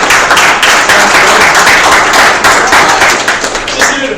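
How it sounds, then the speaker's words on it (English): Loud, close audience clapping at a speaker series event opening, a dense patter of many hands filling the whole stretch and thinning slightly at the end. "Can I get a round of applause to start it up?"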